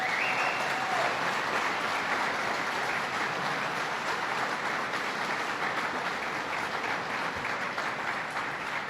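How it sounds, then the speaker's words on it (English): An audience at a motorcycle exhibit unveiling in a state capitol building gives another round of applause, a steady, hissing wash of many hands clapping at a distance, even and sustained throughout. "Let's give Paul Jr. another round of applause."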